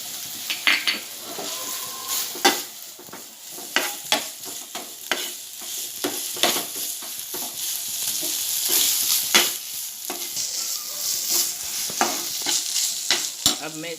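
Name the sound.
stirring turmeric into food in a pan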